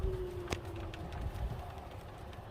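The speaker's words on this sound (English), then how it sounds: "There are birds, I see them." Pigeons or doves cooing outdoors at a bird-watching RV park, low soft calls repeating at a distance over faint background noise, with a brief sharp click early on.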